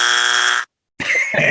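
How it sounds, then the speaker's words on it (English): A harsh electronic buzzer sound effect blares loudly, cuts out for a moment, then sounds again with a rougher, wavering tone. "It was just a nice setup for my buzzer sound effect."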